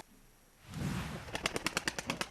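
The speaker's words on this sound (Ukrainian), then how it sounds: "Микола Купчишин розводить голубів" Domestic pigeons kept by a village breeder, heard as a soft rustle followed by a rapid run of about ten sharp, evenly spaced flaps or claps, close and fairly loud.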